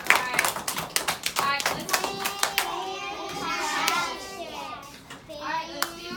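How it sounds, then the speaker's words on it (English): A classroom of children claps in a quick burst of scattered hand claps and taps, with children's voices and an adult speaking over and after the applause nearby. "Round of applause."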